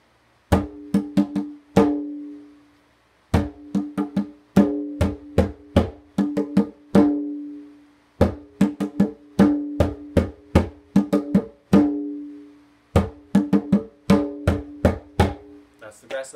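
Hand drumming on a djembe in the Grasslands Chant rhythm: crisp, close slaps and tones in a repeating pattern of short phrases separated by brief pauses, solo with no voices.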